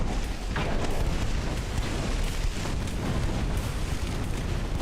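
A torpedo strikes a warship in the Ultimate Admiral: Dreadnoughts naval game, a dense, sustained rumbling explosion roar that stays loud and steady throughout, with no talk over it.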